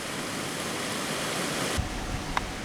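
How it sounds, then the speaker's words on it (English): A little roadside creek in Asheville after Hurricane Helene, its water rushing in a steady, fairly soft hiss with a couple of faint knocks near the end. "There it is, that little creek."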